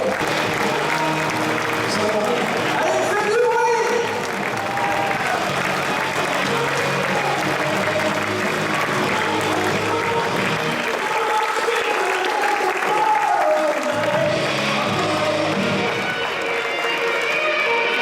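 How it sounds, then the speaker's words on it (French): An audience at a handball club's team presentation applauds player Sakura with sustained, dense clapping and a few scattered shouts, steady and loud for the whole stretch. "faire une tonne d'applaudissements pour Sakura"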